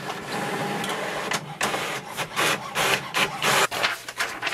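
An HP OfficeJet Pro 9012 printer copying a document whirs and rasps with mechanical paper-feed and print-head motion, close and steady, with rhythmic pulses of grinding as the sheet moves through.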